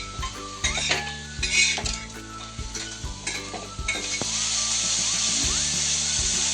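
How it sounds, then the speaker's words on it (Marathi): Onion and tomato roasting together in a pan for a goat intestine masala: steady sizzling with repeated scraping and clinking of a spatula against the pan, followed by a louder, continuous frying hiss. "कांदा टोमॅटो सगळे एकत्र भाजून घे."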